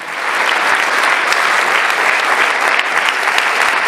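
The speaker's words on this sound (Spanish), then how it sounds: "Dale un aplauso al Señor." A church congregation claps loudly and steadily together, dense applause filling the whole stretch without talk.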